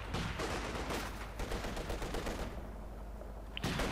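Rapid machine gun fire rattles in dense bursts for most of the span, with brief gaps and a final burst, amid the battle din of a Company of Heroes 2 match.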